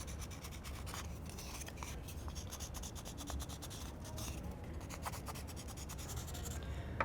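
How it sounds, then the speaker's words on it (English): A blue crayon rubs steadily across a cardboard toilet paper roll in quick, faint scratchy strokes, close and quiet with no voices. "I've got a blue crayon here, and I'm going to put some blue at the bottom of my toilet paper roll"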